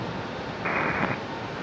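An Airbus A321neo airliner's engine hum swells briefly at Raleigh-Durham International Airport, a distant, airy roar rising over background rain hiss before fading back.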